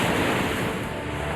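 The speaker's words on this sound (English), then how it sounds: "At Popular Thunder Hole, waves assail the rocks with surging strength." Ocean waves surge and crash against the rocky Maine shoreline at Thunder Hole, a dense, steady roar of surf with wind mixed in, loud and continuous throughout with no voices.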